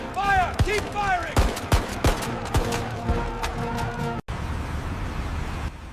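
Rapid gunfire in a reconstructed 1932 São Paulo uprising scene, a dense fusillade of sharp cracks with loud shouting voices over it, ending in a rumbling, noisy wash.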